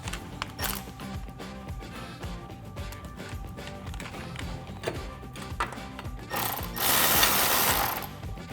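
A ratchet with a 13 mm socket works bolts with flat and lock washers while fitting drop side step bars to a Tacoma, giving scattered mechanical clicks and clunks, then a louder sustained burst of ratcheting close by near the end.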